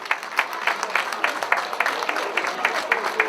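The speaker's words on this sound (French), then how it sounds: "On applaudit à nouveau Clément Aleno." A crowd at a French cycling race, the Boucles Guégonnaises 2022, applauds a rider, producing a moderate, rhythmic patter of clapping hands at a slight distance, steady throughout.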